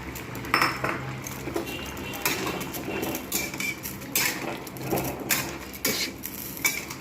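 Fried paneer pieces go into a pan of boiled vegetables. A spoon clatters and scrapes against the metal pan several times, close and clear, over a steady background hiss with no speech.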